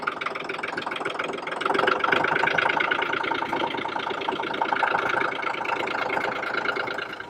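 A small engine chugs steadily close by, a rapid even putter that swells slightly in loudness partway through, with no voices.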